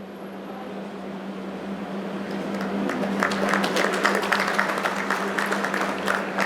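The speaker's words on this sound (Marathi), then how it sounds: "आपण जोरदार टाळ्या वाजवून या क्षणाला साक्ष द्यायची आहे" Audience applause at a literary conference swells from a low hum into a sustained wash of clapping from a crowd, fairly distant and dense.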